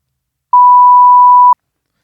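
A single steady electronic tone lasting about one second, clean and loud, starting and stopping abruptly against silence.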